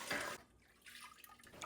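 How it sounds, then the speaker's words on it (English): Whey drains from a pot of cheese curds. A short, splashy pour at first gives way to quieter trickling and dripping, faint and close, with no talk. "To wash the curds, first remove half of the whey."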